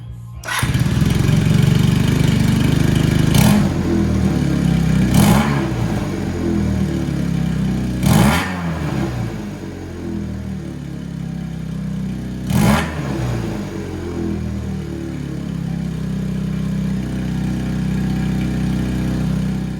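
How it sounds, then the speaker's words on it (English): A 1978 Honda CB400A motorcycle engine with properly synchronized carburetors idles steadily and loudly, with a few quick throttle blips rising and falling at intervals, no voices. "what a properly synchronized carburetor looks like on the vacuum gauge and what it sounds like"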